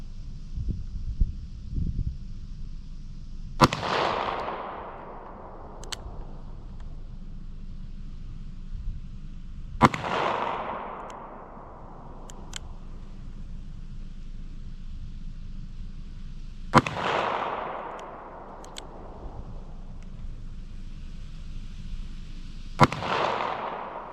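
Revolver shots fired from cold guns at about 15 yards ring out four times at roughly six-second intervals, each a sharp loud crack with a rolling outdoor echo that decays over several seconds.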